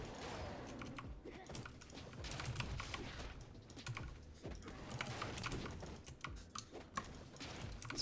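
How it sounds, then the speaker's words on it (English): Rapid clatter of typing on a loud computer keyboard during a League of Legends session, quick irregular clicks in close bursts with brief pauses, heard alone at a fairly low level. "So if you hear me typing, it's really loud."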